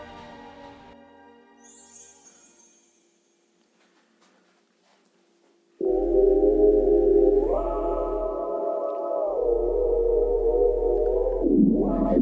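Virtual granular synthesizer played by touch, giving a sustained buzzy tone with a deep low drone underneath that shifts pitch in steps and glides, after a quiet stretch of faint sparkly sounds.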